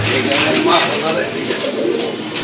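Pigeons at a Bangladeshi bird market, including a cream bar-coloured hen, coo softly amid chatter and other birds, with people talking throughout.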